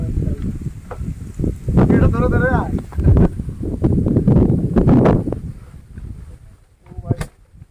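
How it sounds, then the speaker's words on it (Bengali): Strong wind buffets the microphone with a steady low rumble while a person talks over it close by on a bamboo bridge over a canal at the India–Bangladesh border. "বাতাসও হচ্ছে প্রচন্ড বাতাস"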